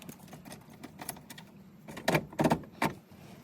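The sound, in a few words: car gear shifter being moved down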